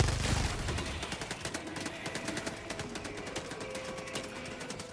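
Rapid automatic gunfire from a weapon in the Helldivers video game, a dense stream of evenly spaced sharp shots after a brief louder opening, sustained at moderate level throughout.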